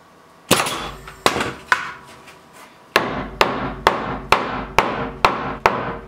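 Hammer strikes a nail into a wooden board, a few irregular blows and then a steady run of about eight evenly spaced, loud, close knocks, each ringing briefly; building a root cellar.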